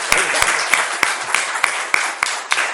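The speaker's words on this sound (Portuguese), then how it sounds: "uma salva de palmas, professor João Galberto" Applause for a professor after a lecture on political history, a dense wash of clapping from the audience, loud and sustained for a few seconds with a few sharper claps standing out.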